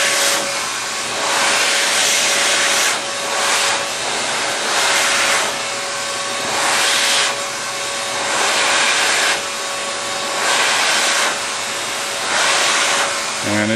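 A heat gun blows hot air steadily onto the overlap flap of PRT tubing, giving a continuous loud whooshing roar that swells and eases slightly with no talk.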